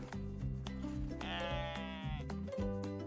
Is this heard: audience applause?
no